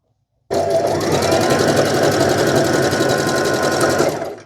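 A sewing machine runs a stretch stitch through fabric for a drawstring dress, its needle hammering in a fast, steady rhythm for about four seconds before it winds down; close and loud, with no talking.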